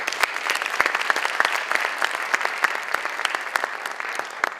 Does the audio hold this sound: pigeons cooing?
no